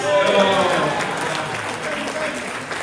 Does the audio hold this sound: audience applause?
yes